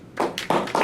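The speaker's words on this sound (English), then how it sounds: "I think we should applaud their efforts" Short, close claps at a public meeting, three distinct bursts of hand impacts in under a second, sounding like the start of applause rather than a full ovation.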